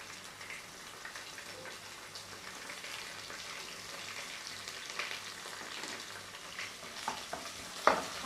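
Curry leaves dropped into hot oil for a restaurant-style chicken fry, giving a steady low sizzle with scattered crackles and a sharper spatter near the end, heard close with no talking.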